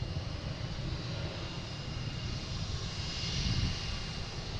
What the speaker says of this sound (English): we have a JetBlue coming in from Las Vegas. A321 Neo, flight 1178